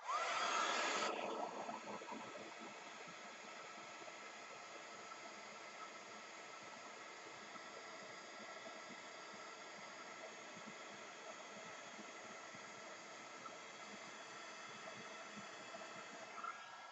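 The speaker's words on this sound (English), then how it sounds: "So when you're using your heat gun," A heat gun melting embossing powder for triple embossing on a craft project gives a steady, loud airy hiss and blower whir that starts strong, drops slightly and then holds evenly throughout.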